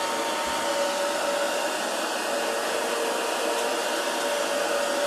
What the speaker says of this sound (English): I'm going to have the blow dryer on